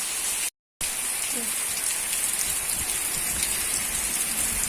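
Steady rain pours down outdoors in hot weather, a dense, continuous hiss of drops striking surfaces that stays loud and even throughout, with no voices.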